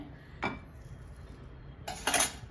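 A spoon clinks against a mixer jar while cumin is added for dates chutney, one short metallic tap followed by a brighter double clink near the end, close and clear over quiet background.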